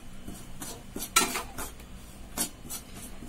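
Rice flour being stirred in a kadai with a metal spoon, a few scraping clinks against the pan at an irregular pace, close and fairly quiet, with no talking.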